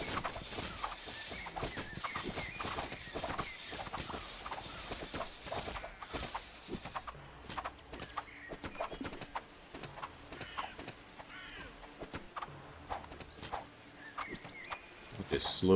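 Horse archers' hooves in the Circle Empires video game patter as a rapid, dense clip-clop that runs steadily under quiet game ambience, with scattered small chirps and clicks.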